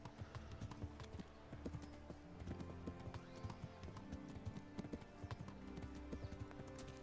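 Horse hooves clip-clop steadily as a rider travels on horseback in the medieval video game Kingdom Come: Deliverance, a continuous rhythmic trot over a busy ambient game soundscape.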